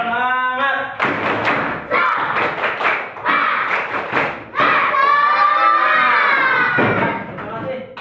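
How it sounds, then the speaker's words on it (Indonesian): Classroom group doing a rhythmic 'tepuk semangat' cheer clap, several loud sharp claps in patterned bursts mixed with children's chanting voices, close and energetic. "yuk kita tepuk tangan semangat"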